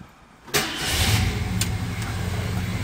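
A restored 1966 Ford Thunderbird convertible's engine cranks and catches, then settles into a loud, steady rumbling idle close by.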